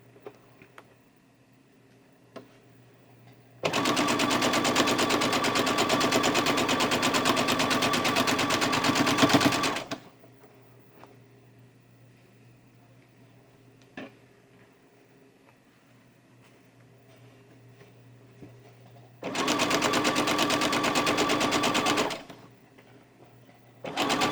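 A sewing machine runs in two steady stitching bursts, about six seconds then three seconds, as quilt patchwork seams are sewn for a disappearing nine-patch block, with quiet pauses between runs and no talking.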